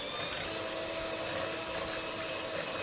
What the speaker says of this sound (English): And I'm going to whisk this up.